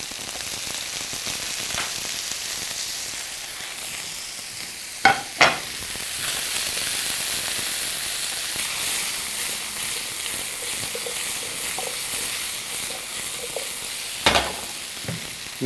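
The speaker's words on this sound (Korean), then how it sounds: "그 다음에 베이컨 넣어줄게요." Bacon sizzles steadily in a pan with taro pieces, a constant loud frying hiss with a few sharp utensil clinks and scrapes against the pan.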